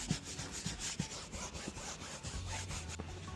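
Car seat upholstery being gently scrubbed, a soft continuous rubbing with faint scratchy strokes, close but quiet, with a low hum entering near the end and no speech.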